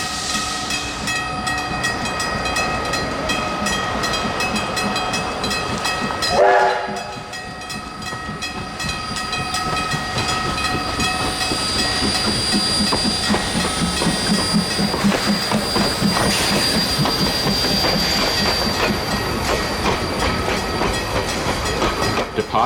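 Ab 699 steam locomotive pulls a passenger train out of Pleasant Point Station, a loud sustained rumble of wheels and cars with a brief whistle-like blast early on, then steady rhythmic clatter and squealing as the train moves off.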